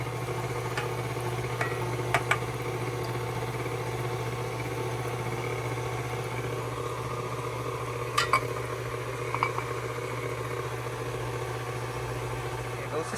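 Sweet potato honeybun cake batter being mixed after one egg goes in, a steady low motor-like hum running throughout with a few sharp clicks and taps scattered across it.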